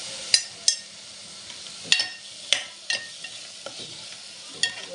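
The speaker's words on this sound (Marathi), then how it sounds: "चांगलं असं परतून घ्यायचं हिरवं वाटण दोन चमचे टाकून घ्यायचे आपल्याला" Green masala paste sautéed in oil for a crab curry: a steady light sizzle punctuated by sharp, evenly spaced spoon scrapes against the pan, close and clear, with no talking.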